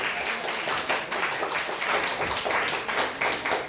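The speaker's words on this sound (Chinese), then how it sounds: "掌声不够热烈，我再次掌声鼓励。" An audience at a 2016 talk event in Taichung applauds a speaker, with a dense, steady wash of many hands clapping close by for the whole stretch.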